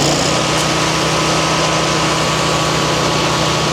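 A MechMaxx wood chipper's small engine runs steadily at a fast, pulsing idle with a throbbing low-end beat and a slight whine. It stays loud and unbroken until it cuts off abruptly at the end.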